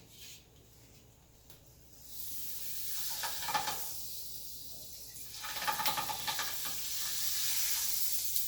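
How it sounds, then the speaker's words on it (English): Butter melting in a pan, quiet at first, then rising into a soft crackling sizzle with a faint scrape or two, heard close and alone. "Put some butter on the pan. Melt."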